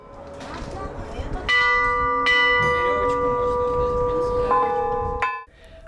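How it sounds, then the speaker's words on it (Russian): Church bells rung by hand from a bell tower, several tones struck one after another and left ringing together, loud and sustained for about five seconds before stopping abruptly, with faint voices beneath. "Юноши и девушки даже попробовали себя в качестве звонарей."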